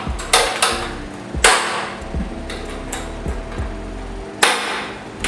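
Clamps snapping shut on the suction head of a Wieland VacPro 16 industrial vacuum after a filter change, heard as several sharp, close metallic clacks spread irregularly over a few seconds against a low steady hum.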